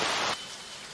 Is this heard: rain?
yes